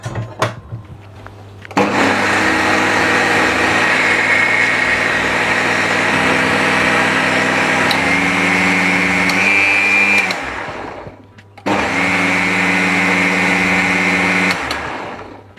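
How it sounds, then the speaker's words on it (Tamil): A blender grinds coconut and peanut chutney with water, a loud steady whirring motor run for about eight seconds that winds down, then a second short burst after a brief pause. "சத்தத்தை வச்சு இன்னும் கொஞ்சம் தண்ணி சேர்த்து நல்லா கூலாக அடிக்கலாம்."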